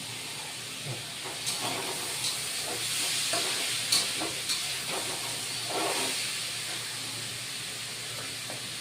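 Bay leaves frying in hot oil for a pumpkin ghonto with five-spice tempering, giving a steady bright sizzle and hiss with a few soft crackles and stirring taps, no voices.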